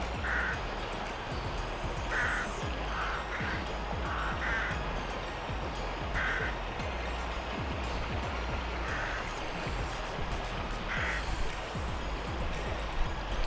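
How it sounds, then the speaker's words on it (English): Shallow river water flows in a steady, broad rushing wash, with occasional crow-like caws cutting through at intervals. "There must be some amount of an incline on this river because the water flows."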